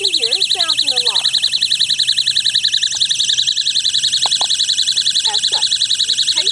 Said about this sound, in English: as you can hear, it sounds an alarm